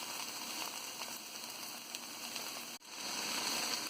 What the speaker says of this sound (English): I am adding tomato and frying around 2 minutes